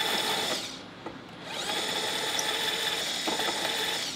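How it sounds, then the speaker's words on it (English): A power tool spins at its top speed of 300 to deburr drilled holes, giving a continuous high whine that briefly dips as the cutter bites, then returns to a steady drone. "I'll deburr all the holes while I'm at it."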